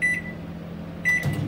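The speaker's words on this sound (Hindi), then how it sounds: "माइक्रोवेव में रख दिया है मैं हाई पावर पे, इसको 2 मिनट के लिए रखूँगी" A microwave oven hums steadily while running on high power, a low drone with a couple of short higher tones and a faint click near the end.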